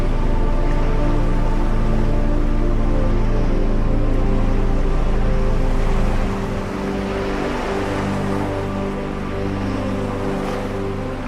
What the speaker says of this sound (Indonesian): setiap suara debur ombak